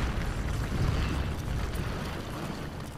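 A bomb explodes in Resident Evil Village: a deep, sustained rumbling blast that rolls on loudly for a few seconds, with no voices.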